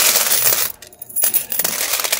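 Rupee coins from a bag of saved piggy-bank money pour and clatter in a dense metallic jingle, break off briefly midway, then resume in a bright, close cascade of clinks.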